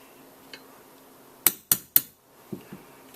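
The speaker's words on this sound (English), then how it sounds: "Nice little brass pin punch ought to remove that sight. So, what you want to do is drift it out." Three sharp metallic taps from a brass pin punch struck with a hammer, drifting the dovetailed sight off a Winchester 190 .22LR rifle, close and clear, with a few softer knocks afterward.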